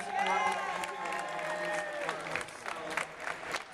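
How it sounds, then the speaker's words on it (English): An audience claps and cheers at a women's awards event, the applause fairly loud and continuous, with a few voices and whoops riding over the crowd noise before it begins to thin out. "Another round of applause for Vernita and Pat."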